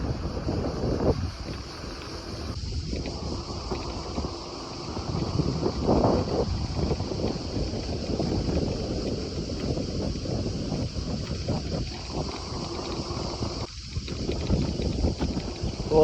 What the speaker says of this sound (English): It's so windy here today though